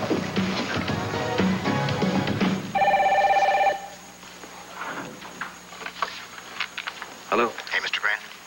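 Telephone bell ringing in a 1989 One Life to Live soap opera scene, a loud steady ring lasting about a second, preceded and followed by people talking.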